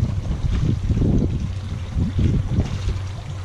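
A popper fishing lure splashes and sloshes on the water near a boat, with irregular bursts of churning noise over a steady low hum.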